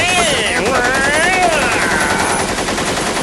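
Rapid gunfire from the action film Hit Man crackles in dense, sustained bursts under a loud soundtrack, with voices and tonal sweeps layered over the shooting throughout.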